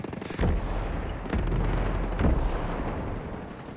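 Mortar fire in the video game Ghost Recon Breakpoint, three heavy booming impacts about a second apart, each a loud thud with a rumbling tail, no voices over them.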